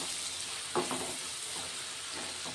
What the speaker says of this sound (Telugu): కొంచెం అల్లం ఎల్లిగడ్డ వేసుకొని పసుపు వేసుకొని కలిపేసుకుంటున్నా.